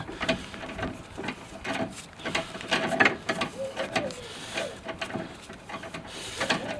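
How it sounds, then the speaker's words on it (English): 22mm spanner tightening a new track rod end nut on a VW Golf or Skoda Octavia: close, repeated metallic ratcheting clicks and small clanks in an uneven rhythm, with faint low background noise. "use the 22mm spanner just to finely tighten it"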